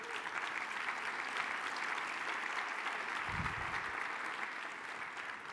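Audience applause at a media festival event fills the space with steady, sustained clapping from a sizeable crowd, heard alone without speech.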